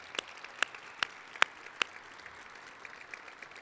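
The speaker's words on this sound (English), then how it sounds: "Could we give our staff a round of applause?" Scattered clapping from a small press conference audience applauding the staff, a few sharp separate claps standing out over a soft wash of applause that thins toward the end, with no talk over it.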